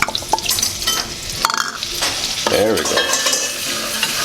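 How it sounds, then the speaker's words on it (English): Flour is stirred into a hot frying pan in a restaurant kitchen for a Thanksgiving meal, a steady sizzle broken by scraping strokes of the utensil and a metallic clink, with a brief spoken remark. "we're going to go ahead and add some flour into the pan"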